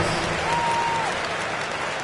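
An arena crowd at a basketball game claps steadily during a timeout, a dense wash of applause with a sustained whistle-like tone briefly rising above it.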